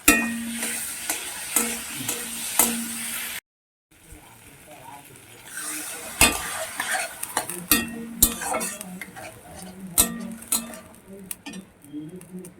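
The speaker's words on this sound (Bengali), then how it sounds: "আলুগুলোকে মশলার সঙ্গে কষিয়ে নেব" Fried potatoes are stirred with spices in a pan, with a low sizzle beneath repeated clinks and scrapes of a metal spoon, briefly cut by a moment of silence before the stirring resumes.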